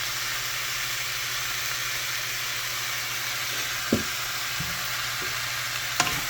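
Sautéed bottle gourd (upo) sizzles steadily in a pan, a constant frying hiss with a few soft utensil knocks as it is stirred.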